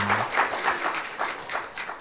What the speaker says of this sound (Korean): 박수로 하나님께 영광의 박수로 드리도록 하겠습니다